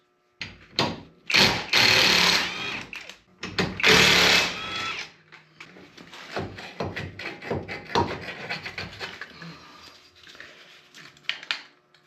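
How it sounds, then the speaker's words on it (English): Two 15mm caliper bolts on a side-by-side UTV being broken loose with a wrench, loud grinding ratchet-like bursts up close followed by quieter clicks and metal handling. "we're going to have two 15mm bolts for the caliper, top and bottom. Go ahead and break those loose"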